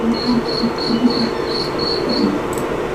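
Cricket chirping sound effect, a regular series of short high chirps repeating in pulses over a steady noisy background, close and loud, with no talking.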